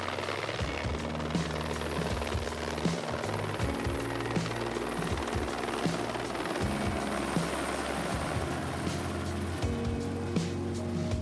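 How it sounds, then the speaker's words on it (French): Helicopter flying over Épernay in the Champagne wine region, a steady, loud rotor and engine drone with rhythmic blade chop sustained throughout. "L'hélicoptère survole maintenant Épernay."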